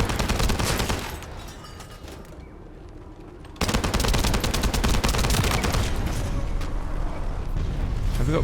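Rapid automatic gunfire and explosive bursts from the shooter video game The First Descendant, loud and sustained, dipping briefly into a quieter stretch before heavy firing resumes.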